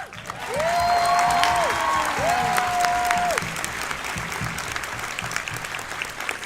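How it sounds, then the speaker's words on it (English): Audience applause fills a fan convention panel room after Kat speaks about her anxiety; steady, dense clapping rises quickly and holds, with a rising-and-falling whistle-like tone above it, then tapers slightly. "give a big round of applause for Kat speaking about her anxiety at Green River Club's mental health action"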